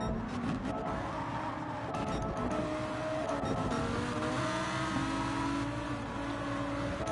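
Race car engines from the video game Gran Turismo 7, including a Ferrari, drone and rev steadily at the Autopolis circuit in Japan, a dense continuous layered roar with some faint shifting tones.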